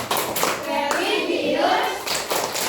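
Children clap a rhythmic classroom chant in quick bursts, hands and young voices mixing close and loud for a few seconds.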